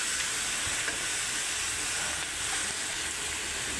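Potato, pumpkin and jackfruit seeds sautéing in a pan, a continuous even sizzle and hiss held close throughout with no pauses.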